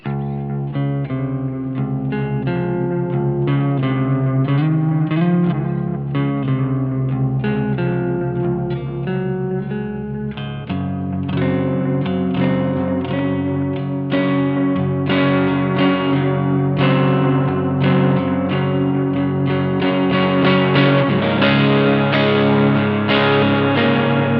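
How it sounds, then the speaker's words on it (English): Clean electric guitar through a Mosky Classic M Shall amp simulator with modulated delay, playing mellow sustained chords and single notes that ring into one another with shimmering echoes, steady and close with no talking. "I've put a modular delay on to show you kind of how it deals with like a nice, sort of pleasant, mellow kind of sound"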